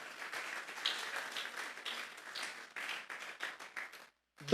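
A church congregation claps together in a dense, steady round of applause that lasts about four seconds, then cuts off abruptly.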